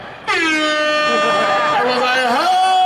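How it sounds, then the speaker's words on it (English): A loud air horn blares in one sustained blast of about two and a half seconds, its pitch wavering and dipping slightly near the end. "That air horn pushed me over the top."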